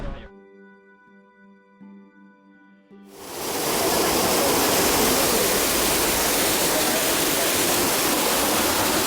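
The largest waterfall in Hungary, about 20 meters high, roars as a loud, dense, steady rush of falling water. It bursts in after a few seconds of quieter tonal sound and then fills the rest continuously.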